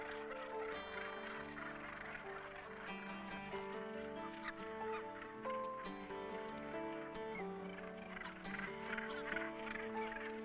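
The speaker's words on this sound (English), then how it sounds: "activity in the gannet colony has reached a fever pitch" Northern gannet colony on Bass Rock, a dense chorus of harsh overlapping squawks and honking calls from many birds at once, continuous and busy with no clear pauses.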